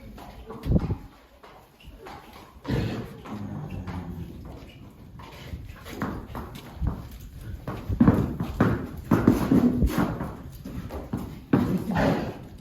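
A wild mustang's hooves clop on hard ground in an uneven walking rhythm, fairly close, with faint background sounds between steps.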